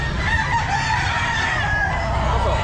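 Roosters and chickens crow and cluck together at the Grotto pet market in Pangasinan, a loud, dense, continuous chorus of fowl close by.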